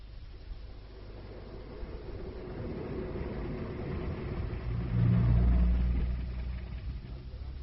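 A car drives along in a Cold War–era radio drama, its low engine rumble steady throughout and swelling louder for a moment near the end, with no voices over it.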